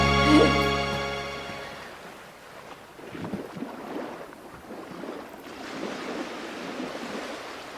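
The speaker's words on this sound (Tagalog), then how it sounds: "Oh, nice waves." Ocean waves rolling in as a steady broadband wash of surf, following a brief burst of tonal music at the start; moderately loud with no voices.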